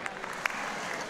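Brief, steady applause from a talent show audience in a studio, a dense wash of clapping at moderate distance with a couple of sharper individual claps.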